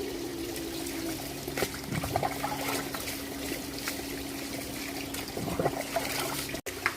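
Water is poured over a small child during a bath, a steady trickling splash running under the room's noise, faint and close, with a brief dropout near the end; no voices are heard.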